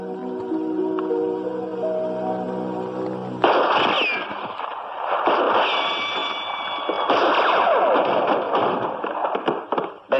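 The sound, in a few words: gunshots, radio drama sound effect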